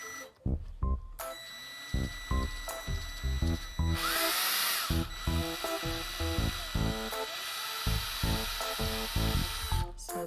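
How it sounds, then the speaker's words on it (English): A power drill bores into an old plastic toy resting on a piece of wood, running in repeated short bursts that start and stop in a choppy rhythm, close and steady, with a longer whining run in the middle. "So let's start drilling. So we will use this piece of wood so we can avoid our table from getting drilled."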